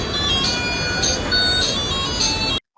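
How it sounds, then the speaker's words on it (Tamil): A musical reverse horn on a 1990s Indian car plays a repeating electronic tune, loud and steady, looping several times before cutting off abruptly. "Number four is my favorite, reverse horn."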